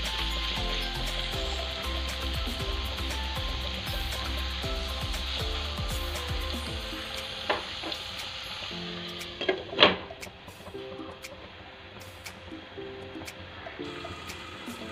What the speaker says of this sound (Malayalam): ഇതൊന്ന് നല്ലപോലെ മിക്സ് ചെയ്ത് ഒരു മിനിറ്റ് അടച്ച് വെച്ച് വേവിക്കും